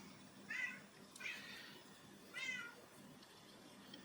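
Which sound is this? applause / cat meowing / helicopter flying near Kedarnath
cat meowing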